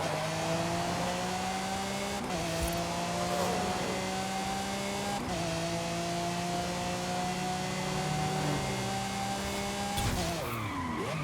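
A new Lamborghini accelerates toward top speed. Its loud, continuous engine tone climbs through several gear changes, each marked by a brief dip before it rises again, with a rushing road-noise backdrop.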